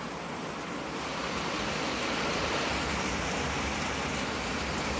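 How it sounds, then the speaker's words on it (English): Steady rain pouring over a pasture pond, a dense, even wash of noise that holds constant and moderately loud throughout with no voices. "Oh my, look at it rain."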